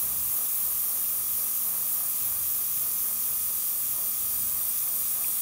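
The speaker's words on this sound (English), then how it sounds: "what I wanted to be doing is keeping the airbrush moving as I'm spraying" An airbrush sprays paint in a steady, continuous hiss that holds level from start to finish, close to the mic with no talking over it.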